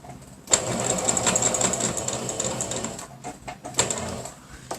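A sewing machine stitches a fabric ecobag strap up close, running in a rapid mechanical whir with brief pauses and restarts between bursts.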